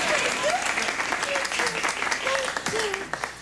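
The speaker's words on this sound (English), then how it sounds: "how about a little applause for the little lady" Audience applause for a singer in a bar, lively clapping with scattered voices and whistles rising over it, tapering toward the end.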